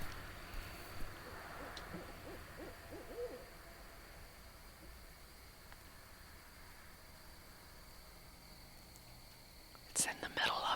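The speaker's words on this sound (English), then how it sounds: "Okay, you'll hear the owls." Owls hooting far off in the woods in the middle of the night, faint calls scattered through a quiet, hissy background, with a louder rustling burst near the end.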